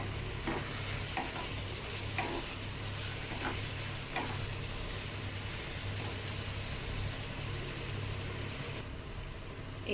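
Paneer cubes being stirred and fried in a masala in a pan, a steady crackling sizzle with scraping spoon strokes recurring through the whole stretch, no voices.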